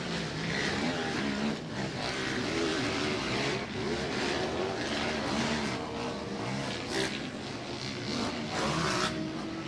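Motocross bikes in a senior race at an AJS Motorcycle Club event roar continuously past the track, a loud sustained engine drone with surging revs and no break for the whole stretch.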